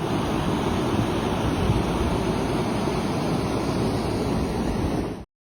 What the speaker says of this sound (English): That is the sound of water rushing over a road in southeastern Minnesota